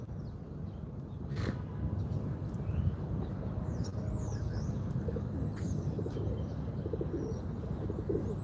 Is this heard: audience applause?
no